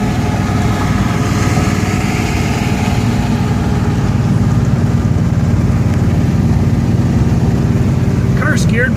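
A 1969 Pontiac GTO with a four-speed manual and new suspension, running in gear on bias-ply tires on a straight road. The engine gives a loud, steady drone with road and wind noise throughout, and someone talks over it.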